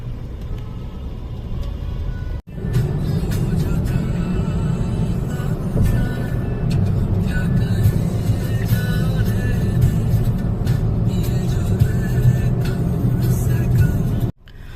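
A car driving through heavy traffic on the way to New Panvel, with a steady low engine and road rumble throughout, a brief dropout near the start and end, and faint voices under the drone.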